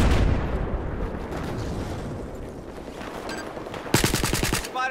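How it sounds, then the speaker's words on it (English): Machine gun fire in the shooter game Battlefield 4 on a market map, a dense rattling roar at first that fades, then a sharp close burst of rapid, evenly spaced shots near the end. "Hostile machine gun."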